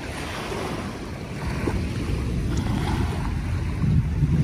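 Waves break and wash steadily onto the Dolomite beach shore of Manila Bay under an overcast sky, a continuous surf roar with some wind buffeting the microphone and no voices.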